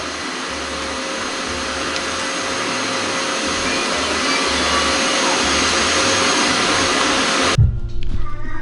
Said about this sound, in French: je peux allumer mon aspirateur et faire le bruit que je veux